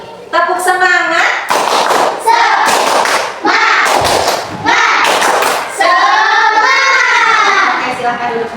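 A group of schoolchildren standing in a classroom does a rhythmic spirit clap, with bursts of loud claps in a pattern mixed with chanting voices.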